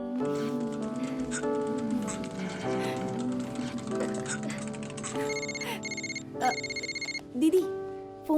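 A phone rings in repeated electronic bursts near the end, following a stretch of music with layered tones throughout.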